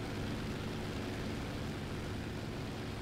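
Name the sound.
airplane engine in War Thunder video game, WEP power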